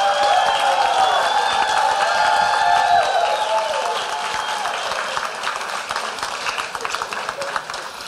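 Loud audience applause and cheering at a senior pageant for armed services representatives, dense clapping with a band's sustained tones ringing underneath, fading slightly toward the end.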